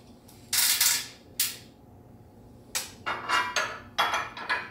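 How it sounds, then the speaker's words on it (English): Metal U-bolts being fitted onto an aluminum utility trailer kit, a Northern Tool Ultra-Tow 5 x 8, give a few sharp clanks and knocks, close and fairly loud, separated by short quiet gaps, with a faster cluster of taps toward the end. "So let's get these U-bolts on."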